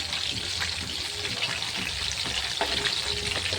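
Chicken pieces fry in a pan with a dense, continuous sizzle and scattered sharp crackles and pops, steady and close throughout.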